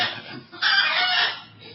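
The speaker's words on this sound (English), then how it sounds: "Do you know why these chickens are there?" Chickens clucking and a rooster crowing nearby, the calls rising into a loud sustained burst midway before tapering off, with no talk.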